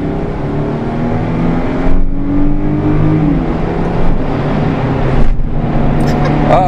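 Cars racing side by side, engines droning loud and close with rising revs and whooshes of passing, a voice speaking briefly over the engine noise.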